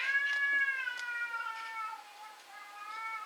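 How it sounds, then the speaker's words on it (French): A cat meows at night indoors in a long drawn-out, tonal cry, then a few shorter, softer mews follow at moderate loudness with no talk over them. "Et il a une belle voix le chat"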